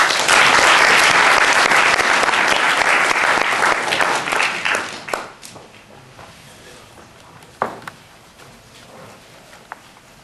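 Lecture audience applauding to welcome Professor Feng, loud sustained clapping for about five seconds that thins out and fades, leaving a few scattered claps and bumps.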